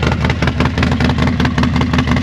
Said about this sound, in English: Now listen to Eric's bike. Doesn't this sound awesome?